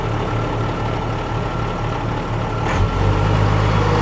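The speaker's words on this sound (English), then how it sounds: "I'm actually going to idle the truck up just a little bit, go back to that hand throttle inside the cab." A Freightliner Unimog truck engine rumbles at idle, then rises to a higher, heavier idle partway through as the hand throttle in the cab is raised; close and steady, with no talking.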